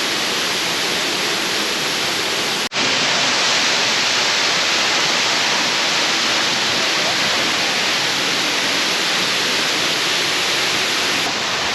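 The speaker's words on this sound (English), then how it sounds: "we'd be sitting here underneath a waterfall that almost looks like it's somewhere in South America." A hidden waterfall on a Kentucky hiking trail roars as a loud, steady, broadband rush of falling water, heard close by without a break and with nobody speaking.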